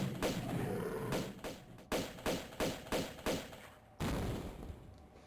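Pistol shots ring out in Tomb Raider II Remastered, a quick burst followed by a steady series of about six evenly spaced game gunshots, then one more after a short gap, with no talking.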